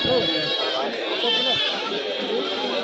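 Young goat kids bleat at the Kadiri market, a few short thin cries mixed into a busy background of people talking.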